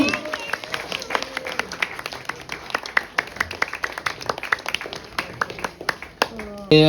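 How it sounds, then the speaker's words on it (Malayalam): An audience at an annual day celebration claps for a family stepping up to receive a prize, the applause steady and lively, with a voice over a loudspeaker at the very end. "എല്ലാവരും ഒന്ന് നന്നായി കൈയടിച്ചേ."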